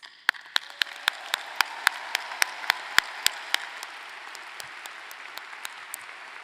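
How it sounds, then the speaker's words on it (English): Audience applause at a spring 2023 commencement ceremony for graduates: a dense wash of many hands clapping, with a few sharp claps standing out near the front, holding steady and then easing slightly toward the end. "Please join me in showing our appreciation with a round of applause for their efforts."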